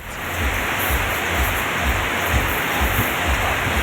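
Steady rain pours and drips in a Philippine province town, a dense continuous hiss of water on surfaces with a low rumble beneath, loud and close with no voices.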